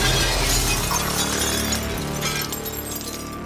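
Glass shatters loudly in the video game Prey, a sharp burst of breaking panes followed by tinkling shards that fade over a few seconds.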